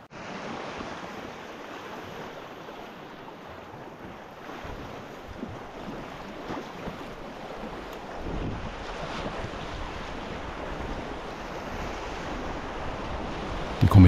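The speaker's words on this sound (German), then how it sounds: "Wildwasser 2 in höchster Perfektion und purer Spaß." Whitewater rapids on the Lieser river in a wooded gorge of the Südeifel rush in a constant broad roar and hiss, with gusts of wind buffeting the microphone and no voices.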